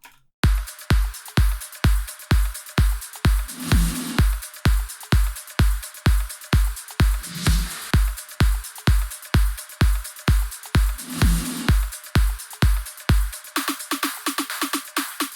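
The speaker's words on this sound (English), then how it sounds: "And together the full drum loop sounds like this." A full progressive house drum loop thumps along at a steady tempo, with a punchy kick on every beat, snappy hits and a bright shimmering top layer.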